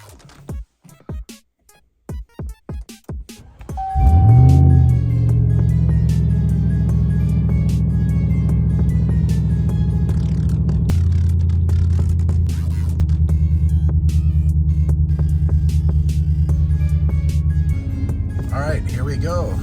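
Ram TRX truck with an H-pipe exhaust, starting up after a series of cranking pulses and then idling and pulling away with a deep steady rumble, close and loud throughout.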